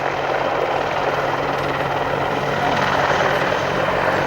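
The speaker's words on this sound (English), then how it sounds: "Now you'll see some low-level maneuvers and pirouetting again showing the agility of the aircraft." AH-64 Apache helicopter flying low-level maneuvers, a loud steady rotor roar with fast blade chop, sustained and close with no talk.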